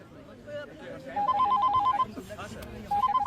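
An old-style telephone bell rings in two sharp trilling bursts, the first longer and the second starting near the end, with someone talking over the ringing throughout.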